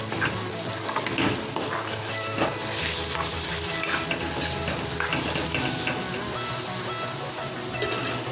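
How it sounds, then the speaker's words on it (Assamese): Spice masala frying in a pan, a steady dense sizzle and crackle that continues evenly throughout with no talking. "ইয়াত মছলাখিনি ভালকৈ মিক্স কৰি মছলাখিনি অকণমান ভাজি ল'ব লাগিব"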